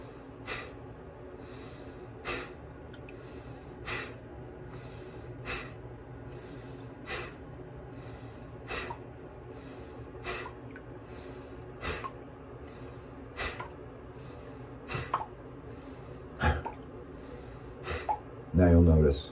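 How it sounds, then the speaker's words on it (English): Rhythmic breathwork nasal exhales, a series of sharp, evenly spaced puffs of air through the nose roughly every second and a half, with a louder rush of breath near the end. "And bring the air in about halfway and exhale through the nose."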